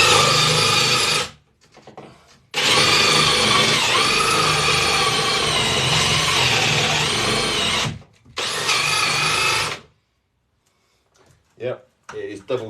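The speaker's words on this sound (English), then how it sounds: "which will basically collect all the crap when we drill the hole" Power drill boring a hole through a double-skinned domestic ceiling for a downlight, loud grinding bursts running about a second, then several seconds, then a shorter run, with brief pauses and faint knocks between.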